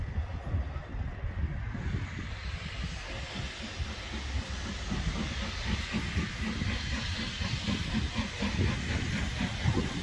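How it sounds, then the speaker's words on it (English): A steam locomotive rumbles and hisses steam continuously as it pulls into Blackpool North railway station, a broad, steady mechanical roar with faint background voices, heard from a short distance. "This very special locomotive pulling in to Blackpool North Railway Station."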